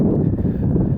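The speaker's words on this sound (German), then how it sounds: "Ja, ein bisschen windig." Low, rumbling wind buffets the microphone in a steady, muffled roar for about a second while cycling in Russia.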